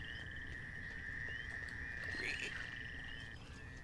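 Frogs croaking in the Duck Dynasty video game, a faint steady trilling chorus with a sustained tone over low background ambience.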